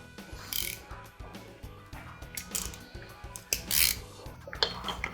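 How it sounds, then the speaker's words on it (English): A ratchet fitted with a 10mm deep socket and extension loosens the wheel on a Rapido ItalKart go-kart, giving rapid, repeated metallic clicks in short bursts, close and fairly quiet, with no talking. "We're gonna pull the wheels off with the 10mm deep socket and extension and a ratchet."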